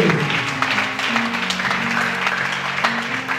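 A church congregation applauds and cheers in praise of God, with dense, lively clapping and voices for a few seconds.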